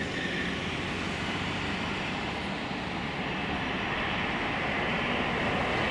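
An easyJet Airbus A320-214 lands at London Luton airport with a loud, steady broadband roar of jet engines and rushing air that holds constant throughout.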